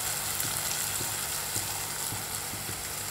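Tomatoes and onions frying together in a pan for a pea and chicken curry, a continuous close sizzle with faint stirring scrapes, no voices.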